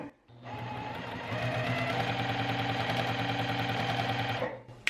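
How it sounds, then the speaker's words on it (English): A sewing machine runs continuously for about four seconds, stitching jelly roll fabric strips corner to corner, a close, even mechanical whir with a fast rhythmic needle chatter that stops abruptly. "So I'm actually just eyeballing it, sewing from corner to corner right here."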